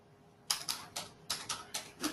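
A date being typed on a computer keyboard: about eight crisp key clicks in a quick, slightly uneven run, close and alone after a brief quiet start.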